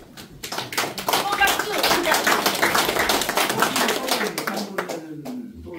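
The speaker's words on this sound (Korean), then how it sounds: "박수." A small gathering at a political academy opening claps briefly for a newly introduced guest, a few seconds of close, moderately loud applause rising and fading, with talking mixed in.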